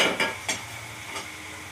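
Onion pieces frying in a pan give a steady sizzle with a few sharp scraping stirs near the start and one later, alone without voices.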